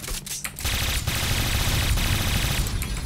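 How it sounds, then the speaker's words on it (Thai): Automatic gunfire aimed at a window in the online shooter Point Blank, with loud rapid bursts of shots after a brief choppy start and short gaps between volleys. "เดี๋ยวกูยิงหน้าต่างให้ตลอด"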